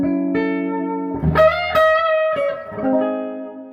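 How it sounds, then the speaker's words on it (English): A Skylark electric guitar played through a spring reverb, a few sustained chords and single notes ringing out with a wet, splashy reverb tail and slight grit, clear and upfront. "it's obviously got this lovely kind of spring reverb sound"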